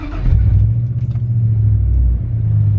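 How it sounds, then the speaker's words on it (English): A 5-speed truck engine cold-starts and settles into a loud, steady low idle rumble close by, with a brief higher whine early on and a small dip near the end. "Y'all ready for this cold start?"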